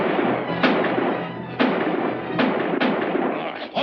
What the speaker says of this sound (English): Stop shooting at shadows before you swallow each other.